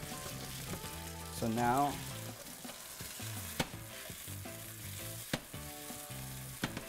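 Gnocchi brown in a hot pan with a soft, steady sizzle beneath someone talking, while a few sharp clicks and taps cut through the frying.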